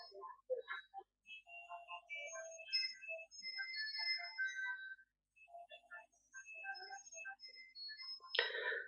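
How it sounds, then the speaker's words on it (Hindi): A mobile phone ringtone plays a bright electronic melody of short tonal notes, fairly close and clear, pausing once briefly before resuming in a room with no other noise. "मोबाइल ऑफ करो प्लीज।"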